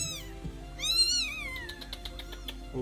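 A cat meows several times in drawn-out, rising and falling cries, close and fairly loud, with a steady low hum underneath.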